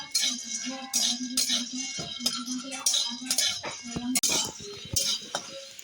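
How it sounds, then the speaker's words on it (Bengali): Peanuts being roasted in a wok over a stove are stirred, giving a run of close, irregular metallic clinks and scrapes over a low steady hum. "বাদামটা একটু নেড়ে নেবো একটু"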